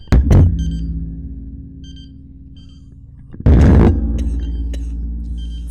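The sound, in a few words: electronic beeping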